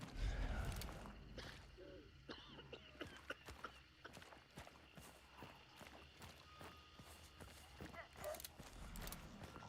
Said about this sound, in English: Hear that horse?